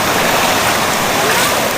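Water rushes and splashes at Vanlaxmi waterfall in Vangani, a loud, close, continuous broadband roar with no breaks.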